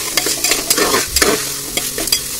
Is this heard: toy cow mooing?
no